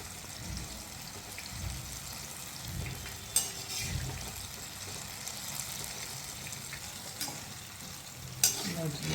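Brinjal pakoras deep-fry in hot oil, a steady soft sizzle and crackle throughout with occasional stirring clatter and a few sharper utensil knocks.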